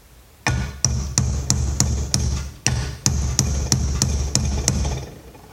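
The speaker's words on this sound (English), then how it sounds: "Just use that and the hammer." A hammer strikes adjustable pliers gripped on a vacuum cleaner part, giving about a dozen sharp metallic bangs in an uneven rhythm, loud and close, each with a brief ringing tail.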